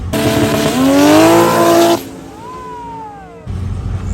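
A 2JZ-powered Nissan 240SX launches hard at a drag strip during import versus domestic testing, its engine screaming loudly as the revs climb, then dropping abruptly to a quieter pitch-sliding drone before a second burst of loud noise.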